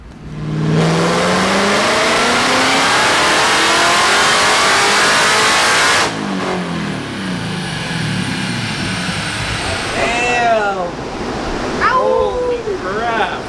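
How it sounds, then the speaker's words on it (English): A 1000+ horsepower Ford GT500 engine revs hard on a dyno, a loud, rising, sustained roar that cuts off abruptly, followed by lower rumbling and voices talking over the idling engine. "we're about to go and hit the dyno with Rob and see how this thing does"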